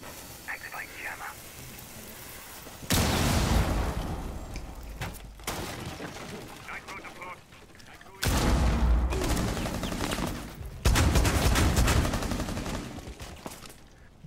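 Gunfire in the video game Rainbow Six Siege erupts in a few loud, sustained bursts of rapid shots with quieter stretches between, while a voice speaks at times.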